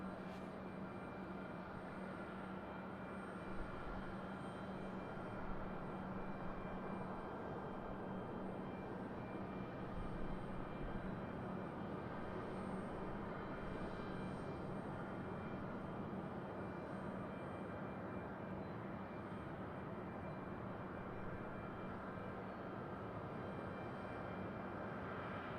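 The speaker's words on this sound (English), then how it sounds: "UPS A300 getting ready to depart." A UPS Airbus A300 heavy jet departing from Raleigh-Durham International Airport, heard from a distance as a steady, low, broad engine roar that holds fairly constant, with no talking over it.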